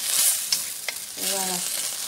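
Meat simmering in its sauce in a pan gives a steady close sizzle with a few soft stirring scrapes, and a short voice-like tone rises briefly partway through.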